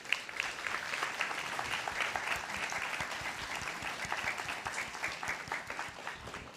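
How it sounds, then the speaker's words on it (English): Applause for graduates and their new guide dog teams at a guide dog graduation ceremony, many hands clapping in a steady, fairly soft roar that holds throughout. "another round of applause to our graduates and our new Canine Buddy team"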